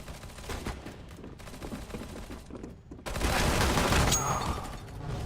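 Rapid automatic gunfire rattles in dense, continuous bursts during a Counter-Strike: Global Offensive match, growing louder and heavier in the second half.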